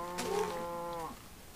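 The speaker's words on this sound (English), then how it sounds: "A wild cow appears." A cow mob in Minecraft lets out a single low, drawn-out moo, close and clear, lasting about a second before fading into quiet game ambience.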